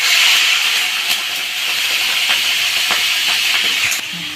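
Prawns frying in hot mustard oil make a loud, steady hiss with scattered pops and crackles across the whole stretch, close up and without voices.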